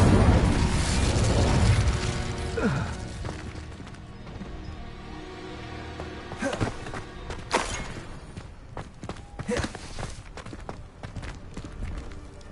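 Fire spells cast in Hogwarts Legacy, heard as repeated loud whooshing bursts and booming impacts scattered across a busy game soundscape, with several sharp flares near the end.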